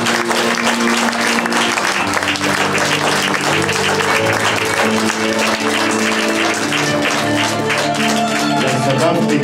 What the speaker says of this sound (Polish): państwo przerwało mi przemowę oklaskami